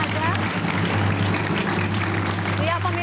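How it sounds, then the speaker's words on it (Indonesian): Audience applause on a televised Indonesian talk-show set, honoring a national figure: steady, dense clapping that holds for about three seconds over a low hum, with faint voices mixed in. "Tepuk tangan untuk Pak Sarwono Kusumaatmadja."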